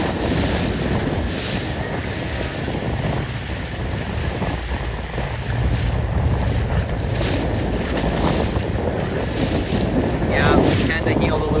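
A 29er sailing dinghy cuts through choppy water, with rushing spray and waves mixed into heavy, steady wind buffeting the microphone throughout.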